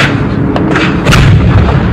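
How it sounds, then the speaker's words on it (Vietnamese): Heavy artillery fire near Da Nang in wartime: several loud, close booms and sharp blasts in quick succession over two seconds, with no voices. "Khi pháo lớn đã bắn tới trung tâm Đà Nẵng"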